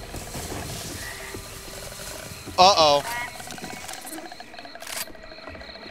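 The Left 4 Dead 2 witch, modded to use the Grudge croak: a brief, loud, rattling croak in the middle of a quiet scene, with a voice briefly speaking before it.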